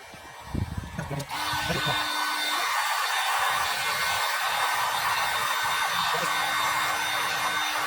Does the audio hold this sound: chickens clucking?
no